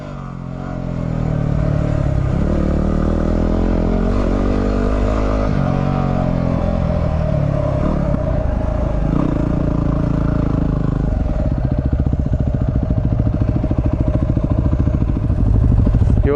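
Dual sport motorcycles, a WR250R, DR650 and R1100GS, ploughing through deep sand, a loud, steady engine drone with shifting revs and rough rumble throughout, close up and without talk.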